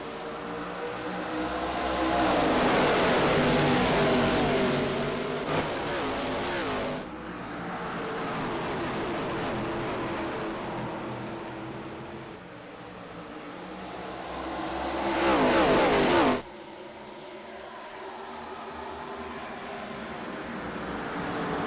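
Stock race cars roar as a pack through the restart zone at Phoenix Raceway in a sim racing game, a loud sustained engine drone that swells and shifts pitch as cars accelerate, with abrupt cuts between views.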